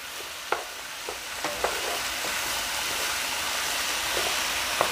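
A wooden spoon stirs a ginger, garlic and pepper mixture for Jamaican curry quail in a hot pan, with a steady, loud sizzling hiss throughout and a few soft knocks of the spoon.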